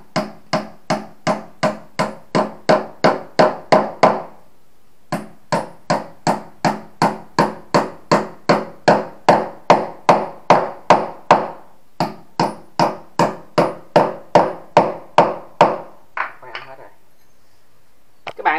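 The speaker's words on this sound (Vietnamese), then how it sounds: "chúng ta sẽ dùng búa mình gõ nó cho nó ôm sát vô luôn." A hammer repeatedly striking a part while an outdoor air conditioner unit is being installed, a long run of sharp, evenly spaced metallic taps about two per second, close and loud, broken by two short pauses.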